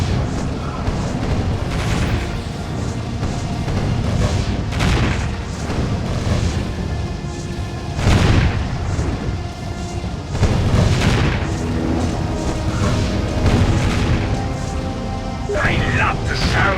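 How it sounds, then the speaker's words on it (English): Cannons in the Defense Grid tower-defense game fire repeatedly, each shot a deep boom with a sharp crack, mixed with continuous game music and effects, while voices talk over the action. "I love the sound of cannons in the morning."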